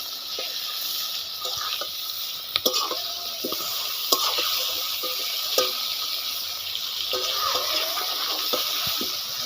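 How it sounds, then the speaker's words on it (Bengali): Fish frying in hot oil in a pan in a home kitchen: a steady, loud sizzle throughout, with occasional clinks and stirring sounds and no talking. "ও মাছ দিলাম, এই যে উল্টো দিচ্ছে আমার মাছ।"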